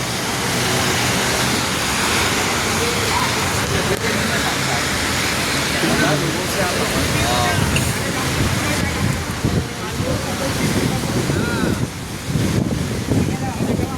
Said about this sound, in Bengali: অনেক বৃষ্টি হচ্ছে বর্তমানে, অনেক বৃষ্টি, প্রচুর।